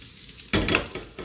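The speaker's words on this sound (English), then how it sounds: "Hear that sizzling." A stir fry sizzles in a hot pan, the crackle swelling suddenly and loudly with a scrape of stirring, then settling into a steady fry.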